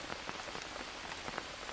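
Steady rain patters on surfaces in the jungle survival game Green Hell, a dense, even hiss of droplets with scattered brighter taps, heard alone without speech.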